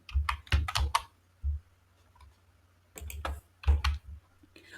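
Quick bursts of typing on a computer keyboard while entering code, clustered clicks in short rapid runs separated by brief pauses, close and fairly clear.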